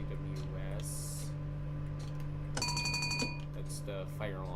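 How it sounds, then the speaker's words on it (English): A fire alarm rings inside the Train Sim World 5 railway game on the West Coast Main Line North, a loud electronic bell burst lasting under a second over a steady hum, with a few shorter tones around it. "That's the fire alarm."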